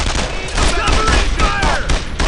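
Rapid overlapping gunfire in the World War II shooter Brothers in Arms: Earned in Blood, steady and loud for about two seconds with bursts layered over one another, a voice shouting in the mix.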